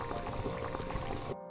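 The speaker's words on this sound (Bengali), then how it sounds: "টকবক করে ফুটছে।" Potato curry liquid boiling in a pot for a prawn dish, a short burst of close bubbling and gurgling that cuts off abruptly at the end.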